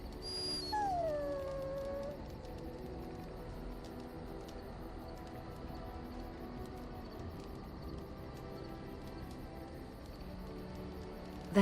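A dog in a video game lets out a long, falling whimpering howl at the start, then quiet game ambience with soft tonal hum continues, no speech.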